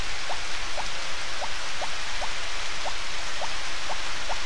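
Steady rain hiss from the farming game Harvest Moon: Back to Nature, an even wash of noise with small regular droplet ticks, continuous and fairly loud throughout.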